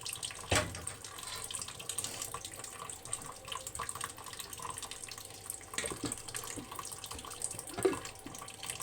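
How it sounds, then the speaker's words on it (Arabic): Water pours quietly in a steady, low trickle, with a couple of brief clinks and splashes along the way. "احط لها بس حبه ميه كده صغيرين من من الميه بتاعتها"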